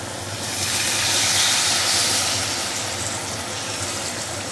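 Half a cup of Marsala cooking wine hits a hot pan used for grouse, giving a loud, steady sizzling hiss that swells early and holds without pause, with no talk.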